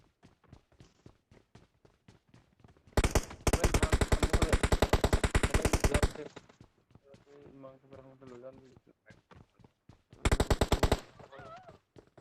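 Video game gunfire from a squad shooter: a long automatic burst lasting about three seconds, then a shorter burst later, loud and close, with light footstep-like ticks and in-game sounds between them.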